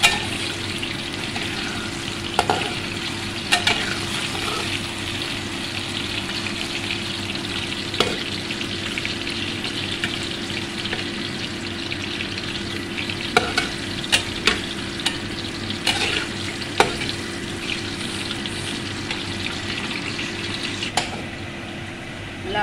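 Potatoes frying in hot oil in a pot, a loud continuous sizzle with occasional sharp scrapes and clinks as they are stirred, up close throughout.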